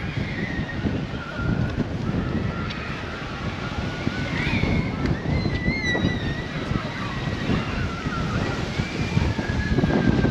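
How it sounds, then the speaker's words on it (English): Strong wind buffets and rumbles against the microphone throughout at Windsor Castle, with gusting noise and faint voices and calls in the distance. "Now it's windy."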